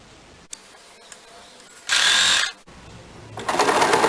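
Sewing machine stitching the side seam of a lined blouse where the sleeve edge meets the body, two short bursts of rapid whirring separated by quiet handling clicks, near and fairly loud.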